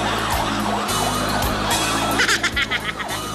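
A person imitates a wailing siren with repeated rising and falling sweeps, carried over a thumping rhythmic backing during a TV variety show, ending in a few choppy bursts.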